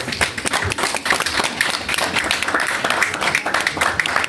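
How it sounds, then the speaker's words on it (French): Applause from an audience at a press conference in an arena, dense and steady clapping throughout with scattered voices mixed in. "Est-ce qu'on peut applaudir pour sa présence?"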